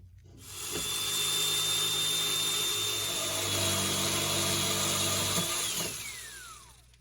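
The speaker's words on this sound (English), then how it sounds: "This jigsaw, it's kind of big. Kind of hard to do this kind of work. But it worked." A large power jigsaw saws through the rear air-conditioning line on a Dodge Caravan. The motor whines steadily for about five seconds and then spins down with a falling pitch. It sounds close and there is no talking.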